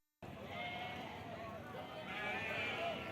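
Goats bleating at the Genteng livestock market in East Java, a steady crowded din of animal calls with overlapping cries throughout, fairly loud and close.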